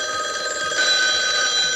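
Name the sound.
telephone ringing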